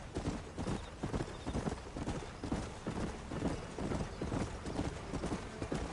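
Horse hooves clip-clopping in Red Dead Redemption's Undead Nightmare, a continuous rhythmic galloping beat, close and fairly loud throughout.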